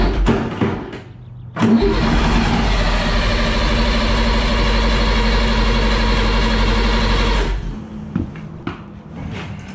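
A Perkins diesel engine meant for an M3 Stuart tank cranks, catches and roars loudly at raised throttle for several seconds, a deep steady drone, then cuts back amid clanks and scattered knocks.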